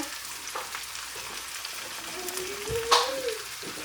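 Chopped onion added to a pan with celery, already frying in oil, crackles and sizzles softly and steadily, with a brief stir or scrape near the end, close and fairly quiet.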